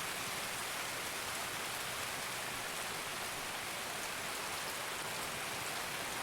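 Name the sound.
rain in the video game Escape From Tarkov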